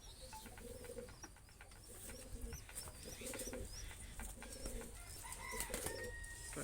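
Madrasi pigeons cooing in a pen, repeated soft throaty coos in a steady rhythm with occasional chirps and faint background bustle, fairly quiet and close.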